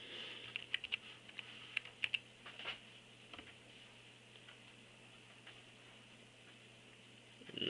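Quick, light typing on a SmartQ V7 keyboard, with irregular clusters of soft clicks in the first few seconds followed by quiet room hiss.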